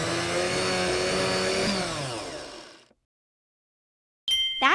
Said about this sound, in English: Put 1 piece of watermelon into the blender.